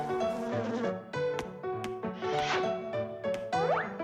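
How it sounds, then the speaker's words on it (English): Cartoon bee buzzing in a children's animation, a wavering, pitch-sliding drone with playful springy accents, close and prominent over light music. "Here, little bee."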